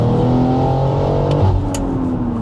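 A BMW X3M's S58 engine with an Active Autowerke exhaust pulls hard under acceleration, a loud, close, rising roar that keeps climbing, then shifts briefly and carries on.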